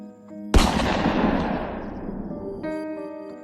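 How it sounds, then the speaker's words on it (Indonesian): A single loud gunshot, a warning shot fired into the air to disperse a crowd, cracks sharply and then rolls away in a long fading echo, with a steady background tone underneath. "Terdengar suara tembakan yang menyentakkan kami semua. Tembakan ke udara, tembakan untuk membubarkan massa."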